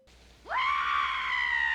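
A woman screams in the comedy film Clue: a single loud, sustained shriek that rises sharply and then holds steady to the end.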